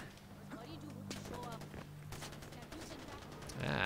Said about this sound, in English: These guys with their firing into the air.